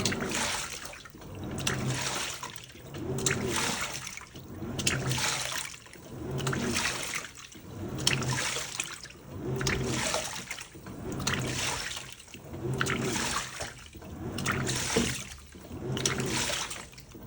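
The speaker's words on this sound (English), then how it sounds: "we're only a few minutes into the soak" Water sloshes and splashes rhythmically in a Panasonic 9.5kg top-load washing machine during its soak cycle, agitation surging and easing roughly every two seconds at a steady moderate level.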